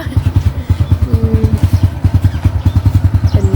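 A new motorcycle's engine runs steadily nearby, a loud, rhythmic pulsing putter with a clattery edge and no voices over it.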